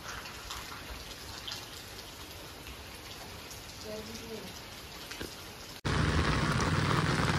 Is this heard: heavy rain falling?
yes